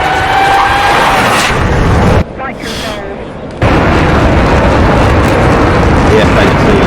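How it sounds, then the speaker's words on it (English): An F/A-18C jet in a flight video game, flying low and building speed, gives a loud continuous engine roar that briefly drops away and thins before surging back, with a voice talking over it. "He's keeping it low, building up speed for his spectacular flight."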